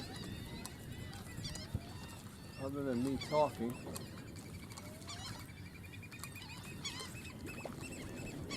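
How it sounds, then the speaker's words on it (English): Quiet morning outdoors on a fishing trip, with faint bird calls scattered in the background. A short honking burst stands out near the middle, while someone talks softly over it. "birds are chatting."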